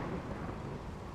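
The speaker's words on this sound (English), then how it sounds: "Sleeping out in the rain." Steady rain with a low thunder rumble from a stormy weather scene in the video game RimWorld, a dense, even wash of noise that holds at a constant level throughout.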